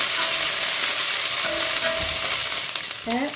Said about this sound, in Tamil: கருவேப்பமில போட்டுக்கொள்கிறேன் போட்டுட்டு இதை நல்லா வதக்குவேன்